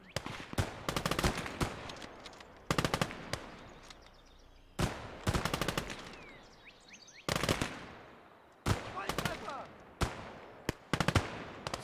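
Repeated bursts of machine gun fire in a World War II shooter video game, several sharp rattling volleys of a few seconds each, separated by brief gaps, close and loud.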